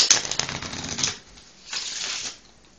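A deck of playing cards is shuffled during a magic trick, with a dense riffling burst for about a second, a pause, then a second shorter shuffle, close and moderately loud with no talking.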